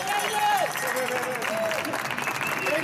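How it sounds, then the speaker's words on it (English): A crowd at a Hive board game championship event in Utah cheers and applauds bartenders, with continuous clapping, shouts and whistles throughout. "Give a big cheer for our bartenders, Eleni and Brett."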